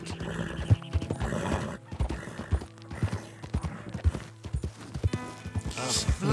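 Hooves clip-clop in a steady galloping rhythm with a horse neighing near the end, from a wild horse in the video game Red Dead Redemption 2, moderately loud under faint background sound.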